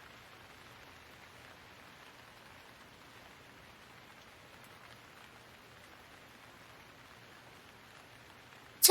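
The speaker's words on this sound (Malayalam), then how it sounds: "നല്ല മഴ." Heavy rain falls in a steady, even hiss that stays constant throughout, with a short sharp burst of noise right at the end.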